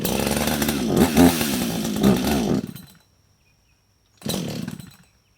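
Husqvarna 562XP chainsaw running on choke with hot start trouble, a loud close engine roar that cuts out, silence for over a second, then a short burst as it fires again.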